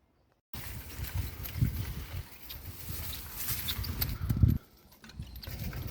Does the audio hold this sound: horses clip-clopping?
yes